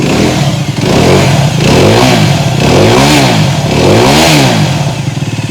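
F.B Mondial HPS 125cc motorcycle engine revving loudly up close, several rising and falling throttle blips over a steady running drone, with mechanical clatter and no talk.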